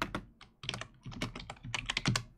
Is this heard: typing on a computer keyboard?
yes